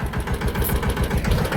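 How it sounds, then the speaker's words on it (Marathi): A farm tractor engine idles just after starting, a loud, close, low rhythmic chugging that holds steady for a moment with no voices. "केलं बघा चालू ट्रॅक्टर."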